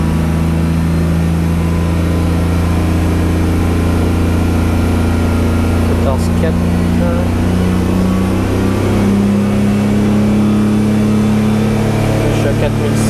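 A turbocharged BMW E46 328 with an external wastegate runs with its engine held near 3000 rpm, giving a steady, continuous low drone with little change in pitch across the whole stretch.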